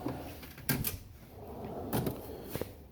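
A Snap-on tool box wrench drawer sliding open, heard as a couple of short metallic rattling rolls with clunks, close by in a quiet garage.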